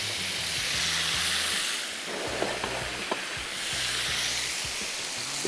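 Fish pan-frying in a home kitchen gives a steady broadband sizzle and hiss, with a few soft stirring clicks and a low rumbling hum underneath throughout.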